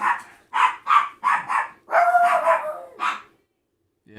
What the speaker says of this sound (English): Now my dogs are all acting up.